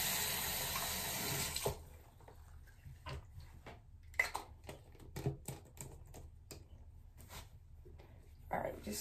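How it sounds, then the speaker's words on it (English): A long, close hiss of a spray bottle, then scattered light clicks and taps, with a short second spray near the end. "spray it with some water"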